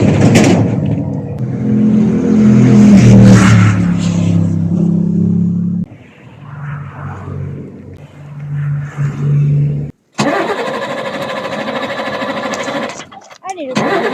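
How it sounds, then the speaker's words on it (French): A broken-down small truck in Greece cranks and tries to restart. A loud, close mechanical whirring runs under talking voices, then fades, and later a sharp, harsh cranking burst cuts in and stops abruptly. "J'essaye de redémarrer."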